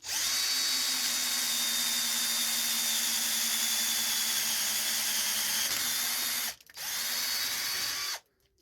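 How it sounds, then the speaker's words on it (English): A power drill whines steadily at high speed for several seconds while drilling through steel, dips briefly, then restarts before stopping abruptly; loud and close, no talking. "So hold it down, ready to drill through."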